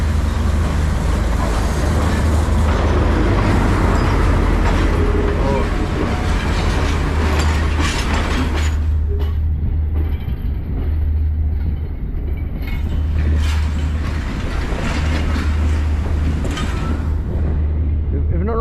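Steady, loud rumble and rattle of a first class train carriage rolling along the track in Sri Lanka, heard from inside, with continuous low drone and faint clacking throughout.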